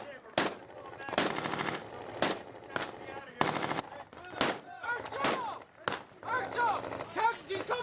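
Gunfire crackles in a firefight in Sangin, Afghanistan: loud, sharp bursts of shots arrive in an irregular rhythm, mixed with echoes and some voices.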